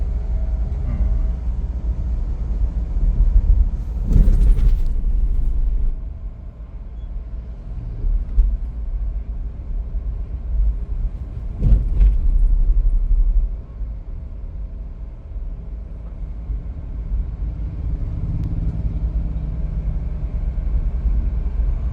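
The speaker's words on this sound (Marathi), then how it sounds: "आवाज येतो इंजिनचा." A car engine drones steadily at low pitch while driving, with a constant rumble, occasional brief knocks and shifts in load, and no talk.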